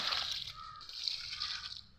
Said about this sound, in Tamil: இப்போ எல்லா செடிக்கும் கொஞ்சம் தண்ணி ஊற்றிடலாம்